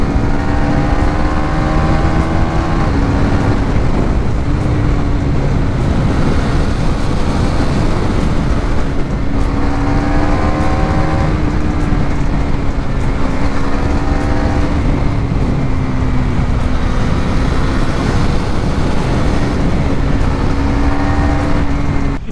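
A KTM Duke 390 BS6 motorcycle at top speed, engine holding a loud steady high drone with brief quick-shifter gear changes, heavy wind rush throughout.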